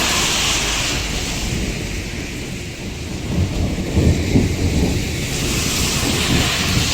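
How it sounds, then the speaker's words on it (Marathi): A thunderstorm with strong wind and rain: a continuous loud roar of wind and downpour, with deep rumbles of thunder swelling around the middle, no voices. "विजांचा कडकडाट सुद्धा जोरात चालू आहे"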